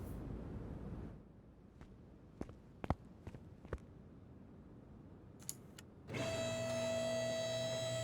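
A car lifter in Car Mechanic Simulator 2021 raises a car, a sustained mechanical motor whine with a steady tonal hum that kicks in after a few scattered clicks, loud and alone.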